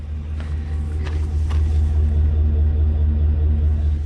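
A 2021 GMC Sierra 2500 pickup truck engine idles with a weak-sounding exhaust, a deep, steady rumble, close and continuous, with a few faint higher clatters over the low drone.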